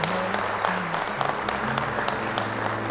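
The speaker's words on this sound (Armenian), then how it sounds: "Սիրելիներ, պահանջ է, որ ձեր ծափարություններով ողջունեք նորապսակ մեր զույգին" Wedding guests applauding a newlywed couple in a hall: dense, steady clapping from a crowd throughout, with soft background music underneath.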